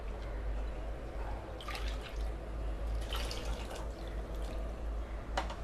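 Water trickles into a pot of Tamil tomato gravy (thakkali kulambu), giving faint, intermittent splashes and drips over a steady low hum.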